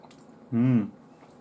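A bite and chew of a strawberry or brown sugar cinnamon Kellogg's Pop-Tart, one short, close, soft crunch lasting about a quarter second in otherwise quiet surroundings.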